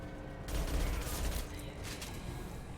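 A burst of gunfire in Mass Effect 2 combat rattles out after a short quiet start, close and dense, with a faint voice underneath.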